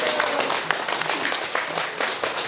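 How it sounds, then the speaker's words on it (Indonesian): Audience applause at an education forum in Bone Bolango, a steady wash of many hands clapping at moderate loudness, fairly dense and continuous without talk over it. "Tepuk tangan dulu."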